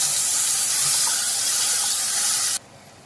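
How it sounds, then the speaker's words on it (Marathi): Spice masala hits hot oil with garlic in a Konkani-style fish curry preparation, giving a loud, steady spraying sizzle that cuts off abruptly near the end, leaving quiet. "बघा आता आपण हा मसाला फोडणीला घातलेला आहे"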